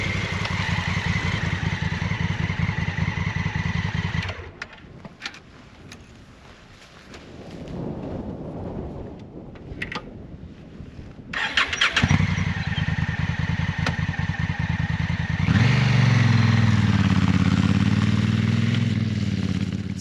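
Honda Africa Twin motorcycle off-road, engine running and pulling up to a stop, dropping to quieter idle and clatter midway before revving loudly again at close range.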